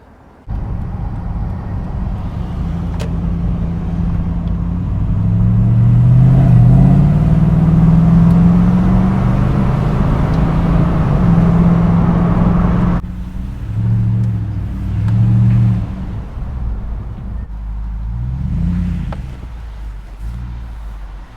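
A 1966 car's engine rumbles loudly and close for a long stretch, its low exhaust drone rising and falling as it revs, with no talking.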